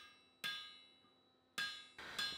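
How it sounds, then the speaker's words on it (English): A hammer striking hot iron on the hardy at a blacksmith's forge, three sharp ringing blows spaced irregularly, each with a bright metallic ring that decays slowly, close and clear with no talking. "I'll start this off with a hammer and then move on to a set hammer"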